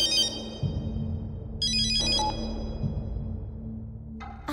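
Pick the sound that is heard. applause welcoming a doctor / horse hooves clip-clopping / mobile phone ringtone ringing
mobile phone ringtone ringing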